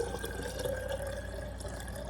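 Cooled water pours into a glass jar of kombucha tea in a steady, faint trickle that lasts about two seconds, with no talking.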